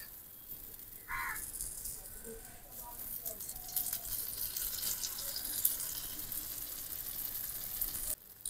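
Batter for taler patishapta, a palm-fruit crepe, frying in a little oil in a pan, a steady soft sizzle and crackle running throughout at close range with a brief clink early on.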